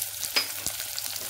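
Thinly sliced onions and green chilies with salt sautéing in hot oil for Madurai-style parotta salna, a soft close sizzle with a light stirring scrape, no voices.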